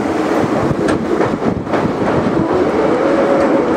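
A train rolls across the Sevoke bridge over the Teesta river, loud and close, with a continuous roaring rumble of wheels and carriages and faint rhythmic clatter.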